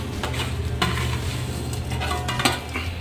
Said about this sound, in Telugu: సేమియా వేసుకున్నాం కదా, సేమియాను బాగా కలబెట్టాలి.